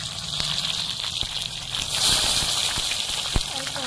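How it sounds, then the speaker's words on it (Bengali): Eggplant pieces frying in leftover fish oil for a Bengali macher jhol, a steady hiss and sizzle with faint crackles throughout. "এবারে মাছের তেলে বেগুনগুলো ভেজে নেব।"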